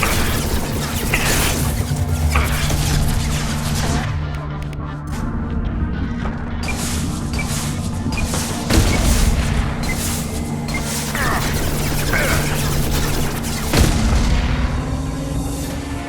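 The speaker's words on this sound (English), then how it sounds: "Firing a high-impact shot." High-impact weapon fire in Mass Effect 2, heavy booming shots spaced irregularly over a droning sci-fi background hum.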